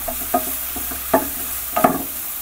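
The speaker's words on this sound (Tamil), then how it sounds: "இது இந்த மசாலாவில் கொஞ்சம் நல்லா பிரட்டி விட்டுட்டு" Ridge gourd sizzles in masala in a hot pan while a spoon scrapes and stirs it in a few distinct strokes, close up.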